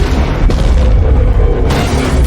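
Booming sniper gunshots in an action movie about an ambulance bank robbery, loud and close, with sharp cracks at the start and again near the end over a continuous rumbling roar.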